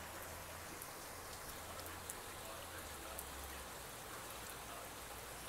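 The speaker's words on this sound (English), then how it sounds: "It's raining in my backyard." Rain falling in a backyard, a soft steady patter of drops with a few slightly louder taps, faint and continuous.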